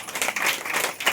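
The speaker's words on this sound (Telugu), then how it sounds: "అందరు గట్టిగా చప్పట్లు కొట్టండి ఒకసారి." A church congregation claps loudly together, a dense, steady wash of applause filling the hall for a moment with no voices over it.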